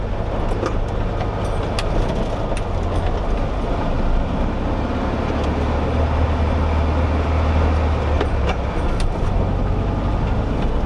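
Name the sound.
1964 VW Bug Class 11 race car driving on dirt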